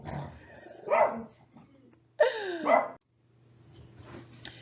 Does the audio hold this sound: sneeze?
no